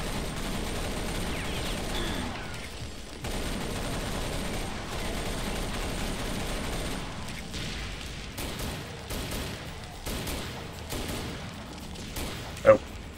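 Assault rifle fire in Serious Sam 3: BFE against soldiers, steady bursts of gunfire amid continuous battle noise at moderate loudness, ending with one sharp louder shot.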